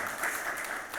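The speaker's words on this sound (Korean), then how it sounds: "우리 박수 해주시면 감사하겠습니다." A church congregation claps in steady applause during a Sunday worship service, a continuous moderately distant patter filling the room.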